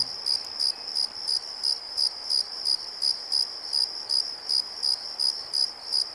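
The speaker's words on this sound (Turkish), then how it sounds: "Gördüğünüz gibi cırcır böceklerinin sesini duyuyoruz." A summer-night cricket recording played from an Android app: crickets chirp in a steady pulsing rhythm, one rapid trill after another, loud and unbroken with no other sounds.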